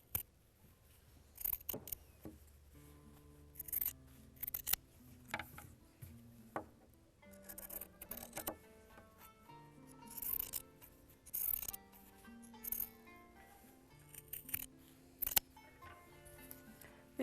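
Scissors cut through pinned fabric strips, giving sparse crisp snips and slicing strokes at close range, with quiet handling rustles between cuts and no talking.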